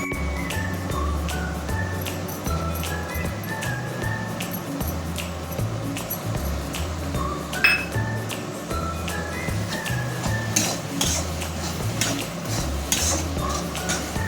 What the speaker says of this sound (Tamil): நல்லா இஞ்சி பூண்டு அடி பிடிக்காமல் நல்லா கைவிடாமல் நல்லா கலரணும்.